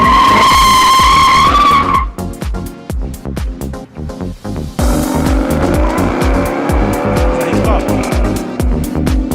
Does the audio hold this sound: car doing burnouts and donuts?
yes